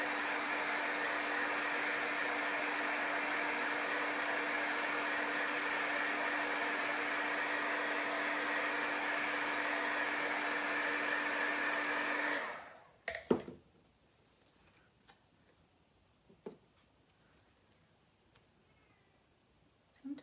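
A hair dryer blows chalk paste dry on a craft piece, a loud steady whir for about twelve seconds before it switches off, followed by near silence broken by a few faint knocks.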